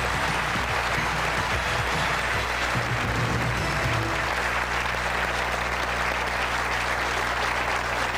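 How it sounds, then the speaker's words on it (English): A television quiz show studio audience at the 1989 UK Going for Gold finals applauds in a dense, sustained wash of clapping, loud and unbroken with no voices on top. "Give them a round of applause."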